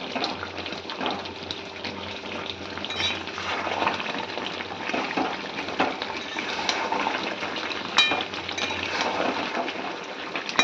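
A spatula scrapes and clinks through thick mango pickle in a pan, with soft wet squelches and a few sharp metal taps, close and steady without speech.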